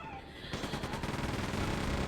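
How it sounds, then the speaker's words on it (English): A rapid burst of gunfire in Quake II Remaster, fast repeated shots crackling continuously, loud and dense, with no voices. "And a lot of gunshots."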